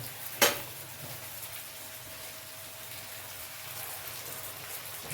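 White sesame seeds sizzle in hot oil as a tempering over patra, a faint, steady crackle and hiss with one brief sharp clatter near the start.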